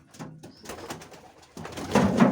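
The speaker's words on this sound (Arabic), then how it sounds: "شايفين كيف بتزوم لذكرها؟" A female pigeon cooing to her mate in a breeding setup, several soft, low throaty coos in short bursts, close by, growing louder toward the end.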